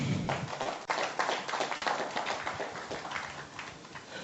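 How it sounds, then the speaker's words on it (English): Faint, somewhat distant clapping from a seminar audience for a speaker, a light, uneven round of hand claps that holds for a few seconds. "Another round of applause for him."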